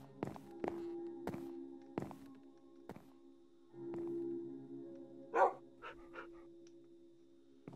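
A dog in the Minecraft video game barks several times in short separate bursts, close and clear, mixed with footstep-like thumps and some game sound effects, with no talking.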